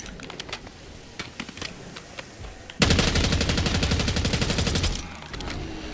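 Rapid automatic gunfire in the Call of Duty Zombies map Liberty Falls, sparse scattered shots at first, then a loud sustained burst of fire for a few seconds before tapering off, with no talking.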